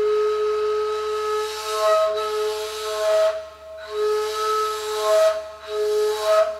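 Breathy sustained ney flute notes in the low register, each held a second or two with airy hiss, repeated in several long phrases with short pauses between.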